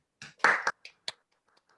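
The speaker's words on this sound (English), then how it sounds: "have a huge round of applause for Toastmaster Ravi" A few scattered claps and taps from participants in an online Toastmasters meeting, brief bursts separated by near silence, thin and uneven as if picked up through separate microphones.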